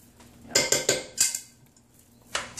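A spoon clinks and scrapes against a pot while stirring cumin into a red sauce for camaron enchilado, making a quick cluster of sharp metallic taps followed by a couple of isolated clicks.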